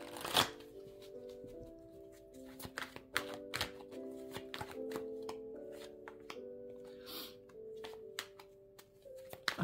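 Playing cards are shuffled repeatedly during a tarot-style reading, with crisp riffling bursts and sharp flicks and taps recurring throughout over a faint musical background, no talk.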